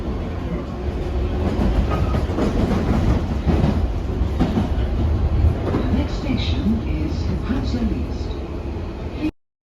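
Train running at Hounslow Central station in London, a steady loud rumble with rhythmic clatter of wheels throughout, people talking faintly underneath, ending abruptly.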